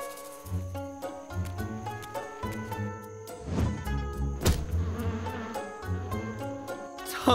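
Flies buzz in a cartoon around a bag of garbage, a dense, steady insect drone with rising and falling pitch, loud and close, alongside cartoon sound effects.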